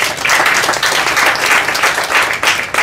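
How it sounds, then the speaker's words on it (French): A church congregation at a mass blessing a grotto of Notre Dame de la Délivrance claps loudly and continuously, a dense wash of applause that swells in waves for a few seconds with no speech over it. "je voulais que vous puissiez vous acclamer très très fort"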